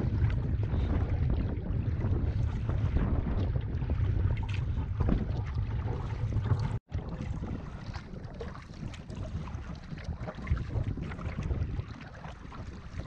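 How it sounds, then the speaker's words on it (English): Light breeze blows across a lake on an overcast morning during a canoe trip in Temagami, heard as steady wind rush over the microphone. A brief dropout cuts in midway, and no one speaks. "No big wind, just a little breeze."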